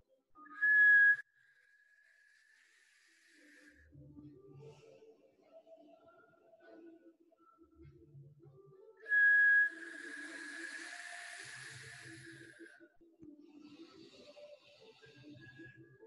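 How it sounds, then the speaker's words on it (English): Soft breathy whistles through the lips, two sharp tones followed by a long airy hiss, with quiet talking and a low murmur in between. "Wet your lips if you need to make that whistle sound."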